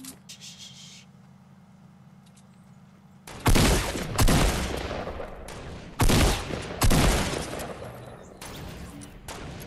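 Sniper gunfire in the video game Fortnite Battle Royale: after a quiet stretch, a handful of loud, sharp cracks ring out at irregular intervals, each trailing off with a booming tail, close and alone.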